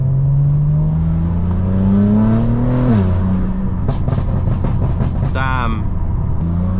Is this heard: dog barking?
no